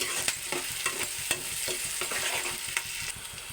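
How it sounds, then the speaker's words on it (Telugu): Sliced onions and curry leaves fry in hot oil while being stirred, a close continuous sizzle broken by regular scraping strokes of a spoon in the pan, with no speech. "ఉల్లిపాయ మగ్గుతూ ఉండగా కరివేపాకు కూడా వేసుకున్నాను"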